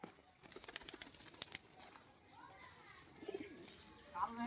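Matraj pigeons coo softly, with some wing flutters and faint voices in the background.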